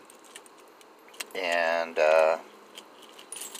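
A bunch of keys, minus the car key, jangles in two short bursts close to the mic, with a brief spoken word just before.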